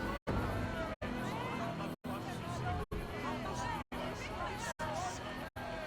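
A large arena crowd murmurs and clamors in Assassin's Creed Odyssey, a continuous babble of many voices heard in several short stretches separated by abrupt silent gaps.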